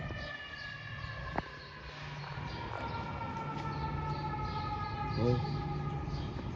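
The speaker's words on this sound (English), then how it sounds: "You can hear the fire trucks. There's one right here coming." Fire truck sirens wail from a distance as trucks approach a parking garage, a steady rising and falling tone over a low rumble, with a voice talking briefly partway through.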